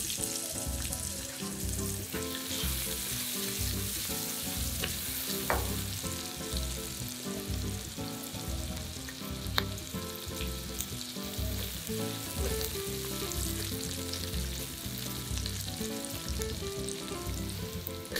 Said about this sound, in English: Now, saute the shallots and garlic.